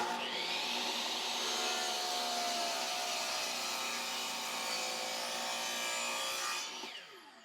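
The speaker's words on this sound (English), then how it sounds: "I've set my miter saw to 7 degrees" A miter saw set to 7 degrees cuts through a wooden stool leg, a loud, steady whine with the blade grinding through the board for about six seconds, then spinning down, close and alone.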